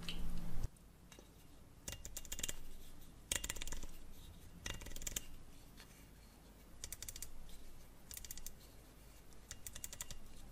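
A diopter adjustment ring is turned in a series of crisp, close clicks. The clicks come in irregular clusters separated by quiet gaps, with no talking.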